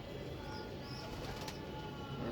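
Pigeons kept for sale give soft, low cooing over a steady, dense background wash, close by and continuous, with no voices.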